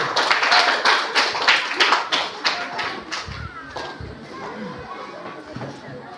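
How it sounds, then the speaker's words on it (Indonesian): A class of students claps for the first presenting group after a classroom presentation, a burst of dense, lively clapping that fades over several seconds while voices chatter underneath. "berikan aplaus untuk kelompok 1"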